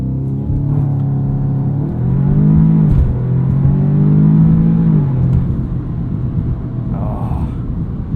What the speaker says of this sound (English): we'll do one more launch controlled start here.